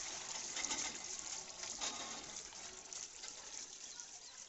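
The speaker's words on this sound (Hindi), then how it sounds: "ये गाय के लिए पानी भरा जा रहा है।" Water gushes and splashes steadily as it fills a container for cows on a cold, foggy winter morning in North India, a continuous close pouring wash with faint background noise.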